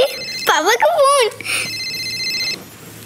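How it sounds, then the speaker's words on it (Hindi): A telephone rings with a repeating electronic tone at home, while someone talks excitedly over the start of the ringing. "अरे पापा का फोन।"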